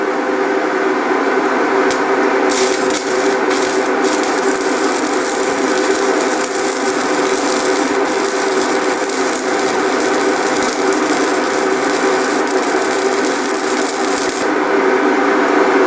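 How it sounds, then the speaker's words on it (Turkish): An Askaynak Inverter 205 Super arc welder burns a 2.5 mm electrode at 50 amps, a loud, continuous crackling buzz that holds steady throughout with brief breaks in texture and no speech. "Şu anda 50 amperde kaynağımızı yaptık"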